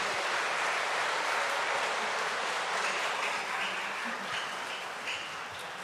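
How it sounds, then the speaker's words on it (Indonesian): A church congregation at a Sunday Easter Mass applauds a Catholic elementary school choir, a soft, steady wash of clapping heard from a distance that tapers slightly toward the end. "kita beri tepuk tangan untuk mereka."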